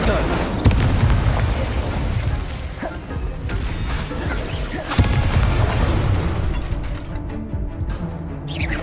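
A Harry Potter video game Incendio fire spell bursts into loud booming blasts and crackling rumble, with sharp impacts near the start and midway, under a spoken voice.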